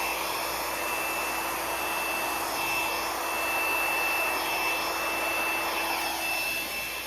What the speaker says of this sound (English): Isn't that pretty how a blow dryer can mix paints like that?